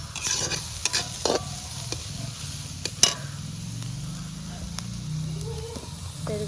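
Egg kothu frying in a pan while being stirred and scraped, a low sizzle running beneath clicks and knocks of the spatula, with one sharp clack near three seconds; close and moderately quiet.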